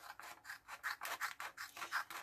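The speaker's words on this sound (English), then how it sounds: "Now I'm going to use my smaller scissors for cutting here." Small curved scissors make quick, repeated snips through paper at a craft workshop building an articulated 3D fish. About eight crisp, rhythmic cuts sound close up and fairly quiet, with no talking.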